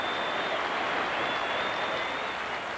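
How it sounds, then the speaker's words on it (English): A cricket crowd at an England v Sri Lanka Test in 2006 applauds Kevin Pietersen's innings, a steady, loud wash of clapping from a large stadium audience that holds throughout with no commentary over it. "But I think Kevin Peterson will get a wonderful applause."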